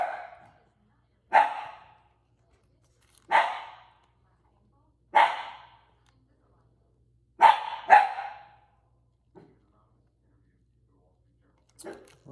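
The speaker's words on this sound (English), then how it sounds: "She is barking at somebody who's walking by." A dog barks at someone walking past outside, with about six loud, sharp barks spaced a couple of seconds apart. Two of them come in a quick pair, with silence between and a couple of faint yips near the end.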